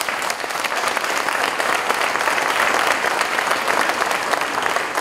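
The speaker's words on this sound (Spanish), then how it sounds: "yo quiero pedirles un aplauso para este equipo" An audience at a shelter for families hit by a landslide applauds a government team of ministers, a dense, steady patter of many hands clapping evenly throughout without a break.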